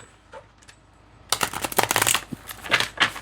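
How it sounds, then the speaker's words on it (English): Tarot cards shuffled by hand during a reading, a quiet start followed by a dense run of crisp riffling and slapping card noises, close and fairly loud, with no talking. "Almost forgot to shuffle."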